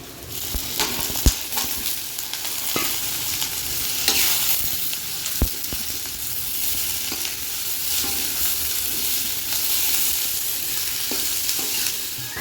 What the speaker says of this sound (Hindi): अब मसाले को अच्छे से भून लेते हैं